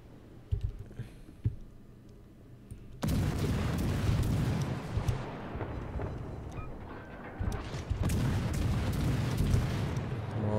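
Torpedo hits strike a warship in World of Warships: after a few quiet clicks, a heavy rumbling explosion swells and rolls on, then a second loud booming blast follows, layered with crackling debris.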